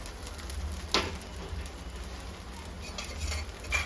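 Uttapam fries in oil on a dimpled iron griddle, giving a faint, steady sizzle with a soft scrape or clink near the start and another near the end.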